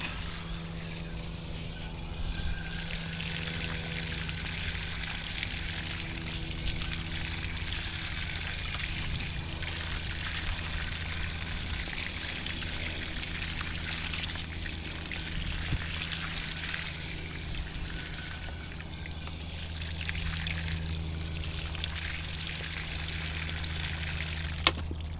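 Water pours and trickles steadily over a bamboo root ball being pulled apart for dividing and potting, a continuous close splashing stream lasting throughout with faint handling noises.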